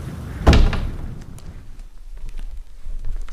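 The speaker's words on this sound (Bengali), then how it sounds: "দরজা খুলে দিতেই তাড়াতাড়ি ভেতরে প্রবেশ করলাম।" A door opening as a sound effect in a Bengali audio story, heard as one solid thump followed by a fading creak and faint rattles in a quiet room.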